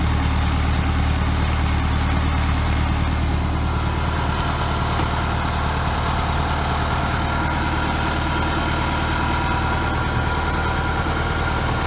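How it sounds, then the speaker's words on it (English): A 1976 Starcraft boat motor fitted with a Pertronix electronic ignition runs at a steady idle, a loud, close, continuous low rumble with even vibration throughout and no voices. "That motor is running smooth."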